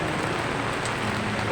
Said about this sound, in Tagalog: inuulan na naman ang Bulan